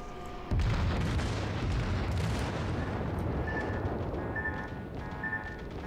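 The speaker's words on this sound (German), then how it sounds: "da kommen wahrscheinlich Schüsse auf uns" A heavy boom opens into a sustained roar of distant naval artillery and rumbling gunfire in World of Warships, with faint tonal beeps over it.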